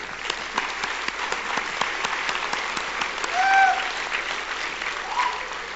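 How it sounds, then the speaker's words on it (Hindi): An audience at a motivational talk by Mr. Deepak Joshi bursts into sustained applause, dense overlapping claps from a sizable crowd with a brief swell partway through. "इनके लिए जोरदार तालियां, बाप के लिए भी।"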